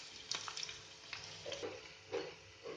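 Onions and curry leaves fry in a pan with tempering seeds, a faint sizzle broken by a few soft stirring scrapes and taps.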